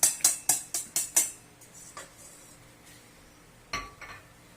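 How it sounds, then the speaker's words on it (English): Eggs are whisked in a large mixing bowl for blueberry streusel muffin batter, with six quick, sharp clinks of utensil on bowl in a rapid run, then a few fainter scattered taps. "into the bigger bowl, we're going to put in our eggs. Break it up a little"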